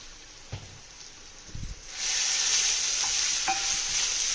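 Ginger paste added to fried onions in a pan, a few soft stirring knocks, then a louder, brighter sizzle that swells and holds steady near the mic.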